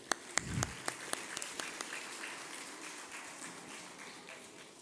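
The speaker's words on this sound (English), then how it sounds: "all stakeholders in the Royal College Islamic Society deserves a huge round of applause" An audience at an Islamic Day and Milad celebration gives a round of applause that opens with a few sharp separate claps, then fades into a softer scattered patter.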